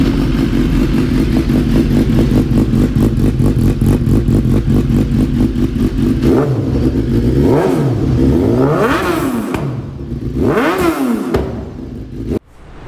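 Superbike engine idling with a rapid rhythmic exhaust burble, then a series of sharp throttle blips whose roars climb and fall back, loud and close, with no speech.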